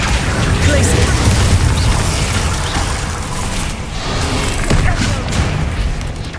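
Loud, dense spell explosions from Hogwarts Legacy combat, a continuous barrage of booming blasts and bursts with a few sharper cracks rising out of the rumble.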